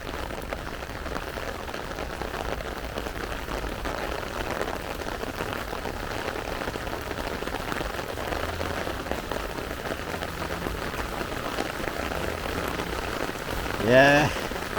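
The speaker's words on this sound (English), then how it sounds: "we're doing good so far in the rain here" Rain falling steadily during an outdoor walk near the White House airport strip in Montego Bay, a dense constant patter with no breaks and a brief louder rustle near the end.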